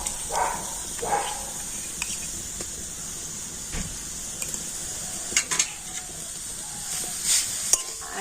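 Sugarcane jaggery melting in a pan while being stirred for a paper pitha filling, with a faint steady sizzle and occasional soft scrapes and taps of a utensil; no voices.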